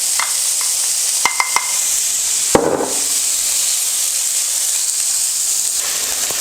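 Bacon sizzling in warm oil in a pan on an induction hob set to 6, a steady bright hiss with a few sharp pops and crackles, one louder clatter near the middle.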